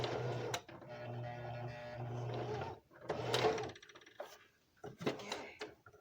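A sewing machine stitches fabric in a steady whirring run for a few seconds, then stops and restarts in shorter bursts mixed with clicks and handling knocks, with no talking.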